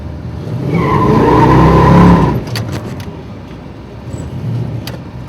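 A drag race car doing a burnout to clean its tires, a loud close tire squeal and roaring engine that hold steady for about two seconds, then drop to a rumbling idle.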